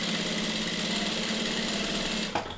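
A Bridgesew PB 9000 industrial sewing machine stitches a pre-programmed back tack, a fast, steady mechanical whir that ends with a brief clack as it stops.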